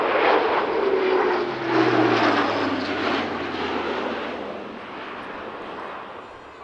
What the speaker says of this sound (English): And after the parachutists had landed, a low, fast flypast followed